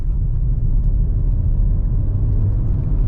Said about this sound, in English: So full throttle, 40 kilometers an hour.